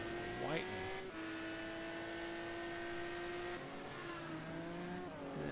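A white and red Ferrari race car in a GT1 race at Algarve drives past with a steady, sustained engine drone and shifting pitch. Other cars can be heard in the background, and commentary runs over the engine noise.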